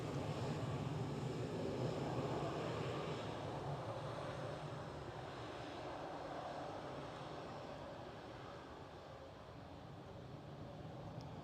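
A KLM Cityhopper Embraer E190 jet at Amsterdam Schiphol gives a steady, broad roar that swells early and then fades slowly as it moves away, heard alone at moderate distance.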